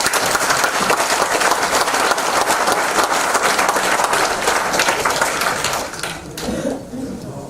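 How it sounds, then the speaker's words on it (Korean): A lecture audience at a natural history museum gives sustained applause, a loud dense patter of many hands that carries steadily for about six seconds, then drops off abruptly into a few scattered claps and a murmur. "열강을 해주신 김정희 박사님께 다시 한번 박수 부탁드립니다"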